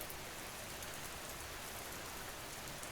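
Steady, dense rain hisses evenly and without pause, a constant wash of soft patter with no other sounds.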